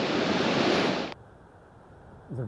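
Indian Ocean surf breaks on a Cape Town beach, a loud rushing wash for about a second that cuts off abruptly into quieter ambience.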